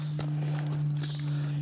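A horse shifting and stepping nearby, a few soft hoof thuds and rustles over a steady low hum, with no voices.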